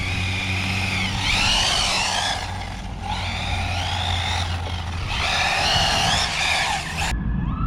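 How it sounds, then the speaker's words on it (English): A V5 Typhon car slides through a turn after the throttle is lifted, its engine note rising and falling in repeated sweeps over a steady low rumble, fairly loud and continuous with no talking. "when you let off the throttle, you can really turn it and slide it like that."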